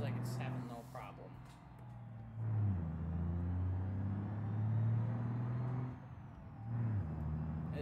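A truck engine in the BeamNG.drive driving game hauls a long chain of trailers, its low droning rumble rising and falling in pitch through gear shifts, with someone talking over it.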